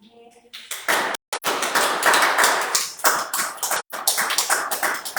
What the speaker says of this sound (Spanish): Dale un fuerte aplauso a nuestro Señor Jesucristo